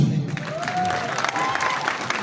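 Applause from an audience welcoming the next speaker at a network marketing friends' meet, a steady dense clapping wash running throughout, moderately loud and fairly close.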